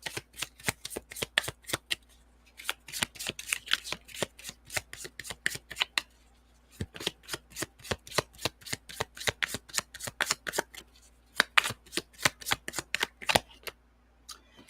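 Tarot cards shuffled by hand, quick bursts of crisp riffling flaps repeated in rapid clusters with short pauses between, close up and alone.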